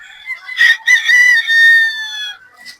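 Pullet chickens give a clear, close crow-like call with drawn-out harmonic notes, preceded by a couple of short clucks, loud against a quiet background.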